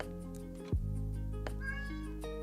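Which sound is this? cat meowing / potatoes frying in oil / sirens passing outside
cat meowing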